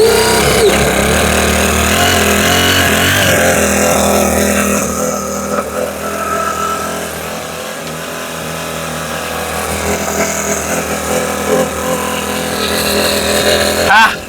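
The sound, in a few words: gasoline engine running, throttle revved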